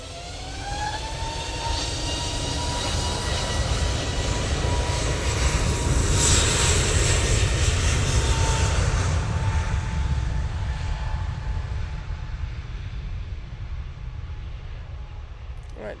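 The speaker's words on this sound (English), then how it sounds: "Turn and burn from the EasyJet." EasyJet jet airliner engines spool up for takeoff at Manchester Airport, a rising whine building into a loud sustained roar that holds steady, then gradually eases off.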